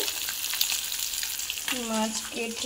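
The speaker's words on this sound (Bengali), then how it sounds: "এখন মাছগুলো ভেজে নিচ্ছি" Fish pieces frying in a pan give a continuous oily crackle and hiss, with a faint voice and a tonal whine rising briefly near the end.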